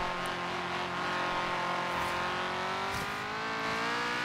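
Off-road buggy engine in Forza Horizon 3 drones steadily with a loud, continuous tone that slowly climbs in pitch as it accelerates, sounding alone with no talk.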